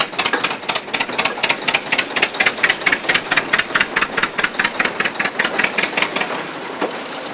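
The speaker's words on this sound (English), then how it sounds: "He claims this engine's very easy to operate, just like driving a car" A private railway engine runs on the Ffestiniog line, its rapid, steady chugging beat repeating loudly and close up throughout with a hard, knocking mechanical rhythm.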